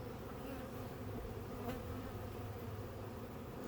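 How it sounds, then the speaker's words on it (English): Dense, steady hum of many honey bees buzzing around an open beehive in a bee yard, a continuous close drone with no voices. "There's a ton of bees on your back and they all carrying pollen."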